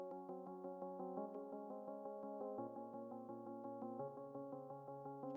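A digicore beat built in FL Studio: a simple bass line under a bright synth lead melody, steady repeating notes shifting pitch every second or so, clean and close with no voices.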